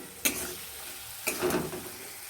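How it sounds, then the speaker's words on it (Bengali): Spiced masala paste fries in oil in a pan while being stirred, with a steady close hiss and two quick scraping strokes of a spoon against the pan. "ভালো করে নাড়তে থাকবে যতক্ষণ না তেল ছেড়ে আসে"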